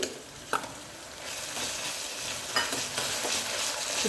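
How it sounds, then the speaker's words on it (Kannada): Ginger garlic paste frying in a pan for vegetable dum biryani: a continuous close sizzle with a few sharp spatula taps and scrapes. "ಚೆನ್ನಾಗಿ ಫ್ರೈ ಆಗಬೇಕು."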